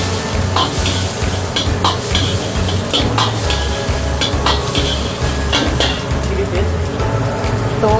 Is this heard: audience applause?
no